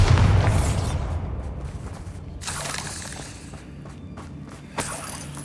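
Confringo and Bombarda spell blasts in Hogwarts Legacy, a booming explosion at the start, then rumbling decay, several sharp bursts and crackles later, with a distinct thump near the end.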